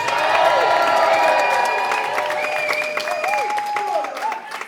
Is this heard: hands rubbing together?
no